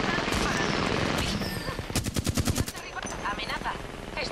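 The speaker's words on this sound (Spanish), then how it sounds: "Están disparando." Rapid automatic gunfire bursts in an Apex Legends match, a tight volley of shots in the middle of a dense, noisy game mix.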